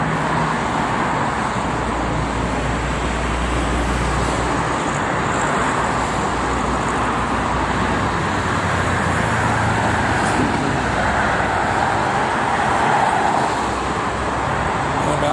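Steady traffic on the Jakarta–Cikampek toll road with trucks, a continuous dense roar of passing vehicles with deep engine rumble, loud and unbroken throughout.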